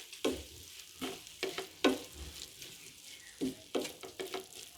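Keema fries with two tablespoons of ketchup being mixed in, a gentle sizzle beneath a series of close, distinct scraping stirs coming in short bursts, with no talking.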